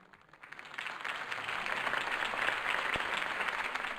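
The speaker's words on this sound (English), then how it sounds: "If only Mr. Wayne, my campaign's largest backer, could have heard that applause" Crowd applause follows Harvey Dent's campaign speech in the Batman Telltale video game, swelling from a quiet start into a broad, sustained wash of clapping from a large audience.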